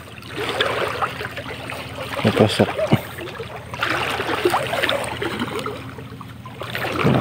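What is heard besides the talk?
strong river current flowing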